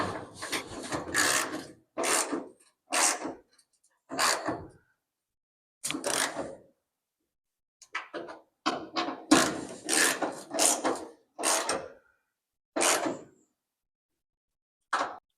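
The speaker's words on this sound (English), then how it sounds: "Now I'm going to tighten it all back up." A wrench ratchets to tighten the fender bolts on a 1964 Ford Falcon, in a dozen or so short rasping bursts with brief pauses between them, close and fairly loud.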